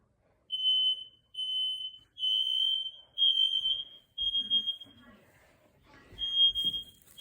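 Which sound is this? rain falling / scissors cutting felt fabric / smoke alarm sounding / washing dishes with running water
smoke alarm sounding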